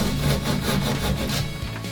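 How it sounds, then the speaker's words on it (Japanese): A handsaw cuts out a section of gypsum board around a post, making close, rhythmic rasping strokes that carry on steadily for the whole moment with no voices. "柱が邪魔なところはちゃんと石膏ボードを切り抜きます"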